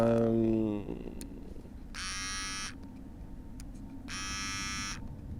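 An electric razor shaves a head in two short buzzing bursts of under a second each, separated by a quiet stretch of low background hum.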